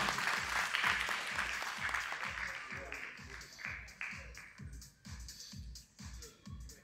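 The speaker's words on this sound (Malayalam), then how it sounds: "ഗംഭീര കൈയടി കൊടുക്കണം" A crowd applauds at a stage event featuring actor Mammootty and ten other actors, dense clapping at first that thins into rhythmic, evenly spaced claps, with voices mixed in.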